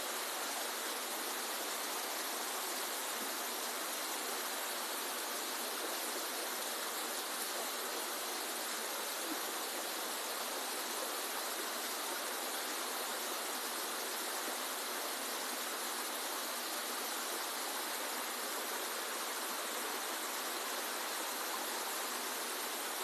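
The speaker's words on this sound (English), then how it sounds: "that you see in the tank is all run by a regenerative blower" Air bubbling through water in a greenhouse tank, driven by a regenerative blower, makes a steady, dense rushing hiss that runs unbroken from start to finish with no talk.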